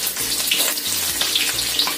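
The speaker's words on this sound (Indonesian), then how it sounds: "Kemudian kita goreng cabai, bawang merah, dan juga bawang putihnya." Chili peppers, shallots and garlic fry in hot oil, a steady close sizzle with crackling pops throughout and no talking.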